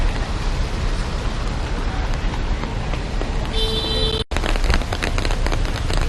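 Heavy rain pours steadily near Hue, Vietnam, a dense close hiss that fills the whole stretch, with a brief dropout and a faint tone partway through.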